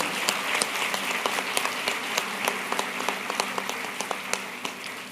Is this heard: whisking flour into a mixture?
no